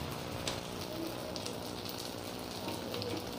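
Oil sizzling and crackling on a hot pan while a crispy hotel-style maida dosa cooks, a steady close hiss with fine popping running throughout, no talk.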